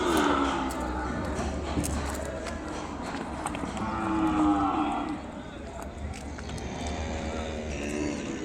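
Several Ongole cattle moo repeatedly, deep and drawn out, amid a busy outdoor crowd murmur and scattered background noise at a bull market in Kodada, Telangana.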